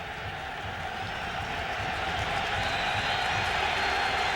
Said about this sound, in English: Listen to this crowd, Kevin.